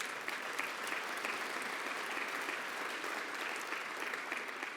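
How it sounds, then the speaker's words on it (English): A crowd at a political conversation event in Alberta breaks into steady, sustained applause, an even, full wash of clapping with no voices rising above it. "I'll clap to that"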